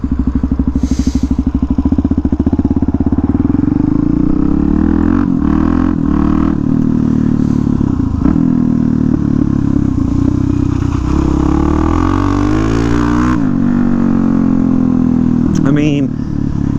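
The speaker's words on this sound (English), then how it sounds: "I just think a SuperMoto is such a good way to get around town." A SuperMoto motorcycle rides around town, its engine note droning and shifting pitch throughout as it accelerates and eases off, close and loud, with a rider talking over it.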